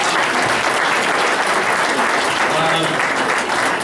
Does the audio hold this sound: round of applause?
yes